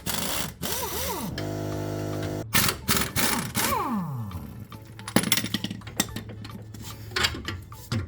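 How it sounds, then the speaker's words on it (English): Power tools work on the lower shock bolts of a Jeep, with sustained whirring passages broken by rising and falling pitch sweeps and sharp clanks and rattles. "Let's remove the lower shock bolts."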